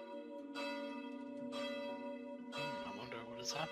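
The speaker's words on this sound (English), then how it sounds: "you hear a ringing of a bell." A town square bell rings out, sustained tolling tones that swell and overlap with fresh strikes, fairly quiet and distant in tone with no talk over it.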